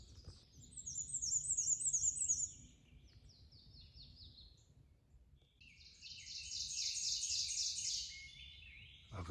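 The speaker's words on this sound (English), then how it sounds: "Ovenbird." Ovenbird singing along a wooded road in North Carolina, two bright, rising chant-like phrases of repeated notes, moderately near, over a low background rumble, with no talk.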